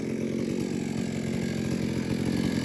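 A chainsaw fitted with a 22-inch bar idles outside with a steady, low, throbbing engine putter that stays even and continuous throughout.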